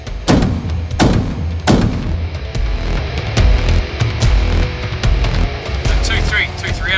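Simulated 25-30mm cannon fire from an RDX simfire training kit, several loud booming shots with a sharp attack, the first three coming about a second apart, with radio-style talk over the rumble.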